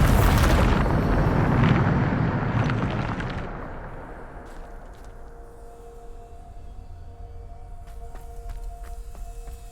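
Bombarda explosion spell in Hogwarts Legacy, a loud booming blast with heavy rumble that swells for about two seconds then decays into a long fading tail, followed by quieter game ambience and small clicks.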